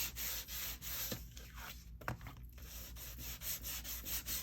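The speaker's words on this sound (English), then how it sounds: "I'm going to use my little sander. I'm going to rough up this tape." A small handheld sander roughs up tape on a craft junk journal page, giving a close, quiet, continuous rasping buzz with rhythmic rubbing swells.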